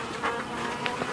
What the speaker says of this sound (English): The hive looks really calm, really full of bees and lots of honey and no beetles.